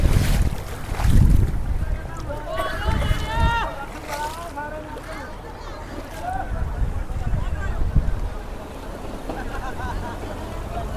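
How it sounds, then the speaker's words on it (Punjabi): Rushing water from the flooded Sutlej River roars beneath someone talking near Sri Anandpur Sahib, with gusts of wind buffeting the microphone. "ਪੂਰੇ ਠਾਠਾਂ ਦੇ ਨਾਲ ਪਾਣੀ ਚੱਲ ਰਿਹਾ ਜੀ ਪੂਰੀ ਸਪੀਡ ਦੇ ਨਾਲ"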